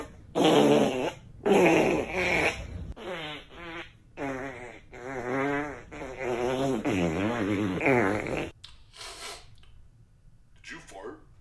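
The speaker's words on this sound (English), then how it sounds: "Did you fart?" A long run of comic fart noises: loud, buzzy, wavering bursts that come one after another for about eight seconds, then a couple of faint rustles.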